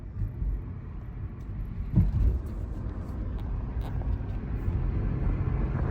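Nissan Altima with a CVT transmission driving, a steady low rumble of engine and road noise heard from inside the car, slowly building in level, with a brief bump near the two-second mark.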